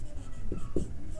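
Chalk or marker scratches across a board during a class-six maths lesson, a few short strokes over faint room noise with no talking.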